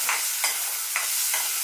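Ginger and green chili paste stir-fried in a pan gives a steady sizzle broken by four rhythmic scraping strokes of a spatula, close up, with no voices.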